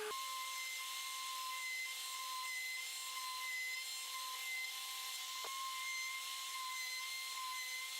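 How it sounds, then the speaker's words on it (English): A 3D router fitted with a 6mm bit mills a groove into wood, giving a steady, loud, high-pitched machine whine that holds unbroken for the full stretch, with only a brief flicker midway. "I'll use my 3D router to machine the adjustment grooves."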